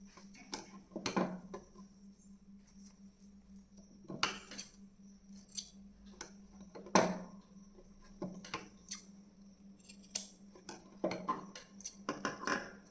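Scissors cut cloth into two pieces for a pillow cover, giving scattered sharp snips and crisp crunches at irregular intervals over a quiet room with a faint steady hum, the snips clustering more thickly toward the end.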